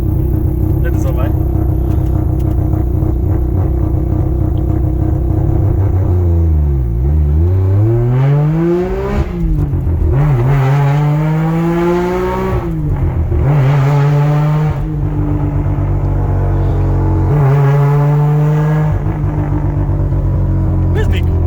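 A Mazda RX8 rotary engine idling, then revving repeatedly in rising and falling sweeps on a night drive, loud and close, with people talking in the car.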